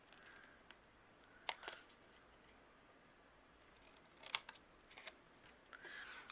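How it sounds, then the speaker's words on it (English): Scissors snip a fishtail notch into the end of a cardstock strip: two crisp, close cuts, one early and one later, each a sharp short snap in a quiet room with faint rustling between. "I'm going to fishtail the very bottom using my scissors."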